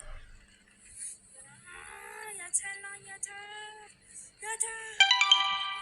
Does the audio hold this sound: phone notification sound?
yes